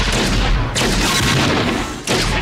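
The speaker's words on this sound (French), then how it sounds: "Donc, fusillade." Gunfire shootout from the 1990 film Robocop 2, a dense, loud barrage of booming shots and blasts that fills the whole moment with only a brief dip in the middle.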